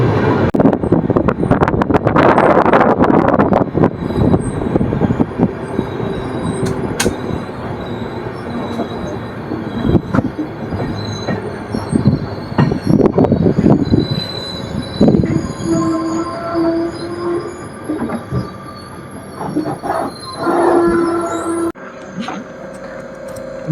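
The Panchaganga Express pulls into Channarayapatna station, its wheels squealing loudly against the rails with rumbling carriages and wind buffeting, the screech easing as it slows.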